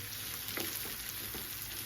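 Onion sizzles softly in a pan of butter, a steady faint crackle with a few small pops.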